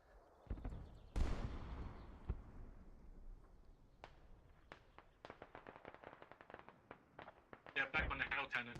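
Heavy artillery fire from a hell cannon in a Squad esports tournament match, a sharp loud blast followed by a series of distant impulsive booms and cracks, with a voice speaking over the battlefield.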